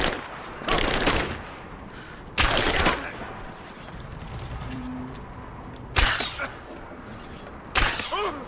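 Bursts of gunfire erupt in Rise of the Tomb Raider, with four loud, rapid volleys separated by quieter gaps of background combat noise.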